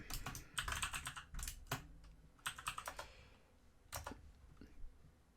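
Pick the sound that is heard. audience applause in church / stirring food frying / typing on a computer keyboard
typing on a computer keyboard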